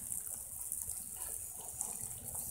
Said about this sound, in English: And with this kind of sprinkler that we got, we really got to water it a lot.